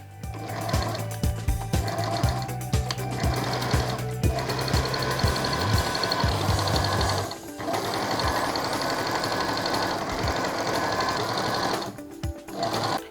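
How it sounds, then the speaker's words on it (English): A sewing machine stitches an extension onto the back panel of a sutana, a long religious garment, in rapid rhythmic bursts close by, pausing briefly twice before running on steadily. "now I'm attaching the extension to the back panel."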